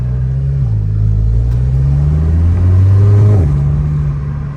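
A Golf GTI with a muffler delete revs its engine, a loud, close, deep rumble that steps up in pitch, holds, climbs again, then drops back, with no talk over it.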